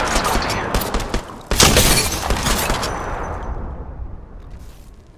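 Gunfire in the battle royale game Apex Legends, a loud close burst of rapid shots with a sharp crack at the start, then a fading decay.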